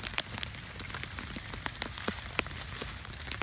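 Rain falls outdoors during a storm, a constant hiss broken by scattered sharp drop patters striking nearby surfaces, irregular and fairly close, with no talking.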